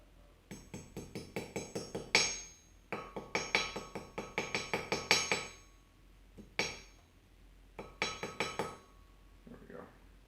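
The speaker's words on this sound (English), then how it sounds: "Straighten on my rail track jeweler's anvil." Bright metallic clinking from a silver ring being hammered on a rail-track jeweler's anvil, delivered in rapid bursts of light strikes with pauses between, close and ringing.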